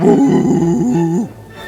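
A dog lets out a short, loud, throaty growl-bark lasting just over a second, close up and alone, ending abruptly before a faint tail of room noise.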